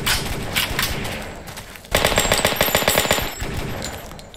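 Automatic weapon fire in the military shooter Delta Force Xtreme 2, loud and continuous, with rapid bursts that swell into a dense, fast-rattling barrage partway through.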